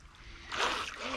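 A Force1 Velocity RC speedboat reverses on water, a short, rough burst of churning and splashing that swells up midway and stays noisy.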